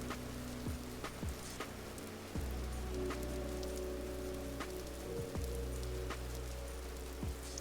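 Steady rain falls in the video game Vintage Story, a constant close patter on surfaces with occasional sharper drops, no voices over it.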